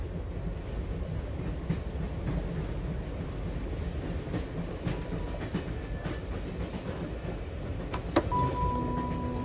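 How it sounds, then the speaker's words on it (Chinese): Passenger train rolling along the rails, a steady continuous rumble with faint clicks and a brief squeak near the end, heard from inside the carriage with no talking. "列车即将到达白杨县站"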